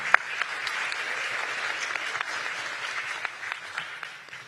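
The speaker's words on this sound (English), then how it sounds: "let's give her a round of applause as well, Miss Fiona Charisma Francis." Audience applause at a national ICT safety competition grand final: steady, moderately loud clapping from a crowd, continuous for several seconds with scattered sharper claps and no talk.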